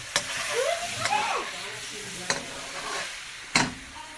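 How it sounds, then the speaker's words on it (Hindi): Oil and butter sizzling in a pan as the base for butter chicken, a steady frying hiss with a few sharp utensil clanks and stirring scrapes, with voices talking faintly in the background. "चले पहले हमने तेल और मक्खन डाल दिया है ना।"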